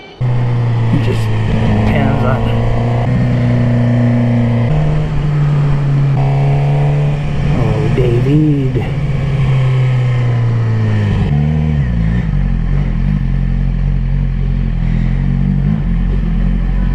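A Suzuki GSX-R 750 motorcycle engine revs loudly and close up, holding a steady drone with rising and falling rev sweeps, and a fault in its secondary throttle valve actuator has just been repaired; a voice speaks over it.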